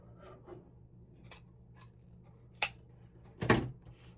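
Scissors cutting a length of ribbon for a scarecrow door swag, giving two crisp snips, a sharp one and then a louder, fuller one a second later, close up over a quiet room with faint handling rustles before them.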